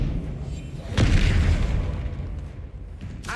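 A Confringo fire spell in the Hogwarts Legacy video game bursts into a loud, booming explosion about a second in, its rumble fading over the next two seconds, with a fainter pop near the end.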